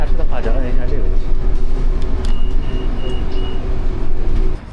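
A city bus in Milan rumbles steadily along from inside the cabin, low engine and road drone with brief high tones and clatter, while people talk over it throughout.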